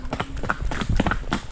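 Horse hooves clip-clop while the horse hauls harvested rice on a slippery path, a quick cluster of close knocking steps lasting only a moment.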